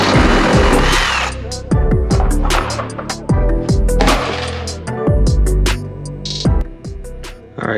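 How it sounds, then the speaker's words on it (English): A power drill bores holes through a bumper template on a Ford Mustang EcoBoost, with loud close bursts of whirring and grinding separated by short pauses. "So all I have to do is just drill these holes."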